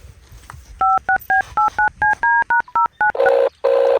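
A telephone is dialed with a quick run of about a dozen evenly spaced touch-tone beeps, followed by two longer tones, loud and clear with no talking.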